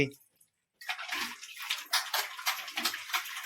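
Water pours in a steady rushing stream into a container after a brief silence, close and fairly loud, with a low voice briefly underneath.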